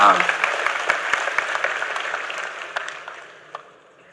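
A lecture audience claps on request in a burst of dense, scattered hand claps that thins and fades over a few seconds.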